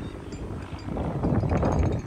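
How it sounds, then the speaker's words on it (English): Wind buffets the microphone on a cold, blustery day at Miami Beach, a rough, loud rumble that swells toward the end with no talking. "Miami Beach is surprisingly cold and windy today."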